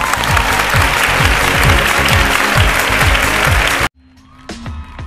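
A studio audience at a televised Latin beauty pageant competition applauds loudly and steadily for several seconds, a close, dense roar of clapping that cuts off abruptly into near quiet with faint clatter.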